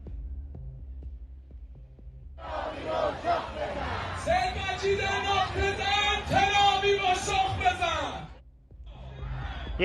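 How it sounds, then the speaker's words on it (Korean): Tens of thousands of citizens in Tehran cheer as Revolutionary Guard soldiers ride atop a missile. A massive crowd roar with sustained shouting and chanting voices swells in after a quiet start, holds loudly for several seconds, then briefly drops. "수만 명의 시민들이 환호를 합니다"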